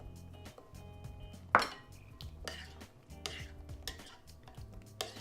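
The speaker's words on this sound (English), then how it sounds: "Give that a good stir" Blackberries and other fruit are stirred in a bowl with a spoon, giving soft wet shuffling and a few clear clinks against the dish, close and quiet, with faint talk underneath.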